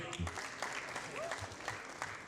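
An audience claps for two finalist schools at a student debate championship, brief dense applause with a few sharper claps, under some overlapping voices.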